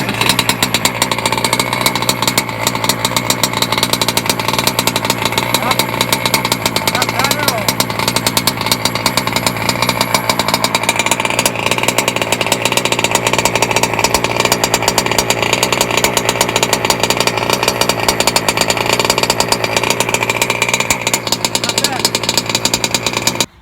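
A motorcycle engine idles steadily with its exhaust fitted rather than running on a raw pipe, a dense continuous mechanical rumble that stays loud and close for the whole stretch with no speech over it.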